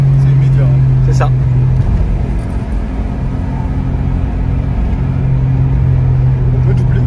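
A car engine revving hard from inside the cabin, a loud continuous rumble with rising pitch and faint turbo dump-valve hiss, while people talk over it.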